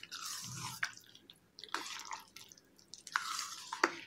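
A spoon mixes two spoonfuls of room-temperature curd into milk cream, making soft wet squishing and stirring strokes with brief clicks of the spoon, close and quiet, with pauses between bursts.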